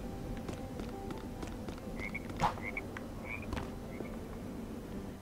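A yellow frog in a video game gives several short, soft croaks at intervals over a steady bed of background game ambience, with no talking.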